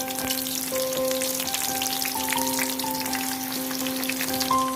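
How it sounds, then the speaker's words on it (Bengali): Hilsa fish pieces for paturi fry in hot oil in a pan, giving a loud, dense, continuous sizzle and crackle throughout, with a faint steady tone underneath and no talking. "এবার একে একে মাছগুলো ভালোভাবে ভেজে নেব।"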